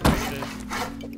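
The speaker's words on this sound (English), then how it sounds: "Are they hitting the wall right now? Look at them. Yeah, they're meleeing it." Players meleeing a base wall in a video game: one solid thunk at the start, then a couple of softer knocks over a steady background hum, with no talk.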